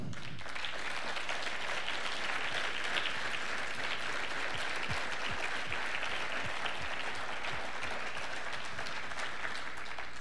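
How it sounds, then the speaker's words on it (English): A large audience at an awards ceremony applauds steadily, a dense, even roar of many hands clapping that holds strong for about ten seconds without letting up. "please stand up for a round of applause"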